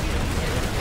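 Dense, continuous gunfire from a large online video game battle, a steady loud barrage of shots with no clear gaps, with a voice faintly mixed in.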